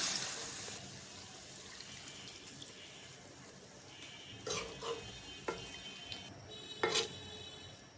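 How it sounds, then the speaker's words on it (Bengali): Broth is poured over fish simmering in a pan, giving a steady bubbling sizzle with a few sharp splashes and clinks near the end, close and moderately quiet, with no talking. "কষানো হয়ে গেছে, এখন ঝোল দিয়ে দিব।"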